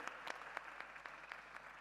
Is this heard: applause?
yes